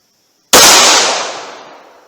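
A single loud, sharp gunshot from a short-barrel 9mm or .38 Special handgun fired outdoors at a chronograph, a sudden blast after silence with a long decaying echo tail.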